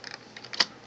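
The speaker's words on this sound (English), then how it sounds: "I type diameter." A computer keyboard clicks in a short, quick burst of keystrokes, soft taps followed by a couple of sharper, louder presses, close and alone without talk.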